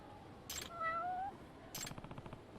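A cat in the video game Judgment gives a rising, drawn-out meow followed by a second call with a rapid purring or trilling pulse, faint and set against light game ambience.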